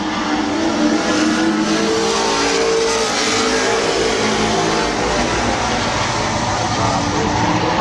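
Stock race cars roar around the oval at Midvale Speedway, engines loud and continuous as the pack runs close together, with a steady wall of motor noise and occasional tire sounds throughout.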